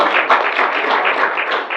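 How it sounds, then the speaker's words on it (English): An audience at an early-morning networking breakfast gives a brief round of applause, dense, steady clapping from a room of people, fairly loud and close, with no talk over it. "Give yourselves a round of applause for being here so early."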